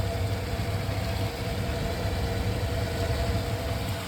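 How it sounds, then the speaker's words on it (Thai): An electric motor and gearbox run continuously at a fish pond, a steady mechanical hum with a low drone and an even rattling vibration. The sound is close and constant, with no speech. "ผมพาไปดูมอเตอร์นะครับ มอเตอร์กับเกียร์นะครับ"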